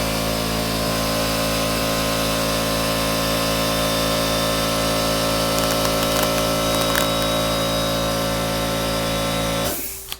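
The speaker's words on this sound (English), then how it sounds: "That's my compressor." A boat owner's air compressor running loudly and steadily with a constant mechanical drone and hum, stopping abruptly at the end.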